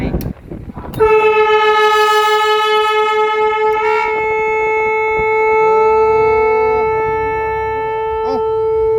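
A Japanese JET aftermarket horn blares one long, loud, steady tone imitating a Shinkansen bullet train's horn, holding for several seconds before its pitch wavers near the end.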